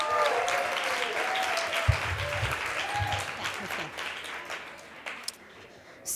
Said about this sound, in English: Big round of applause for Rati